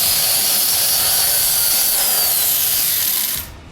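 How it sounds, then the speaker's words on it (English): An angle grinder whines loudly and steadily as it grinds a weld flat on a Cummins rat rod's metal frame, then cuts off abruptly near the end. "Just a basic grinder, right?"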